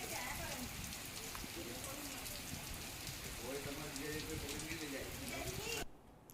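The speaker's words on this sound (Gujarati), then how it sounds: "ભારે પવન અને કરા સાથે વરસાદ પડ્યો છે" Heavy rain falls steadily and densely, with a broad hiss of drops on surfaces throughout and gusty wind mixed in, ending abruptly near the close.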